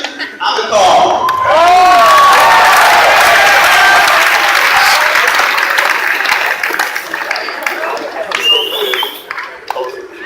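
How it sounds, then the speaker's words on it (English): A school assembly crowd applauds and cheers for a swim coach, loud sustained clapping filling the hall with children shouting over it, then thinning out toward the end as a voice speaks. "let's give a sweet round of applause to the coach"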